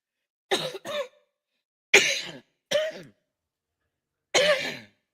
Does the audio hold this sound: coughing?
yes